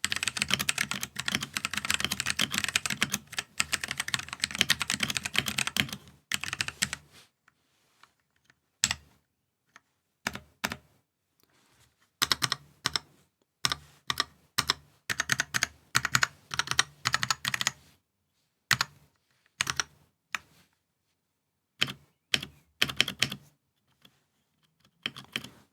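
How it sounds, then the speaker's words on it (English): Typing on a KOORUI MK082 80% wireless mechanical keyboard with brown switches: a dense rapid clatter of keystrokes at first, then slower scattered clicks and short bursts, close and clear with no talk. "Now let's go ahead and do a quick typing test."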